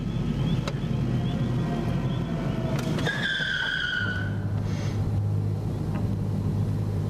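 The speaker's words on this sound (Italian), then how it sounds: "Oddio, è la macchina di Robby." A car belonging to Robby approaches with a steady engine rumble and a sharp tire squeal in the middle, then settles into a low, constant drone.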